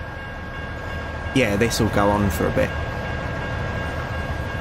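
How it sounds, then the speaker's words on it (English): A long freight train with a second engine pushing in the middle rolls past in American Truck Simulator. Its steady low rumble runs beneath someone talking briefly. "I think I got the long freight train mod as well."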